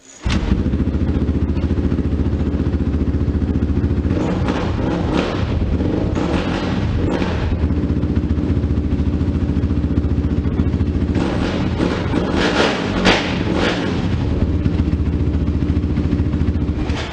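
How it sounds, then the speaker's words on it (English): A Honda ATV engine, left sitting for two months, fires up on the first kick and runs on, a loud, close, steady idle with some clattering rises in revs and no talking. "It's been sitting here for 2 months and fired up on the first kick."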